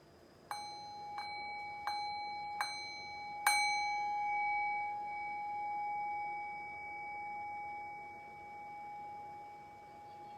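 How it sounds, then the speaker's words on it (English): A meditation bell rings in a quiet room: four quick metallic strikes, then a fifth, stronger strike whose clear tone hangs and slowly fades with a gentle wavering shimmer. "Rest your thinking mind on the sound of the bell."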